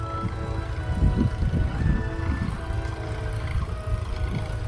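A low engine rumble drones steadily from two tractors puddling a muddy rice paddy for transplanting nearby, with churning and sloshing underneath; no one speaks.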